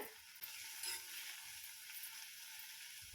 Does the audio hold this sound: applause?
no